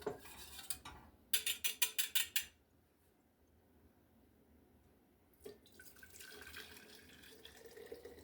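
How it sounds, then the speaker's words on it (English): Homemade golden milk, simmered and hot, is poured into a jar: faint trickling liquid with a run of quick clinking taps near the start, then a quiet pause before a soft pouring stream resumes, all close and low in level. "And now we're going to pour it in this jar."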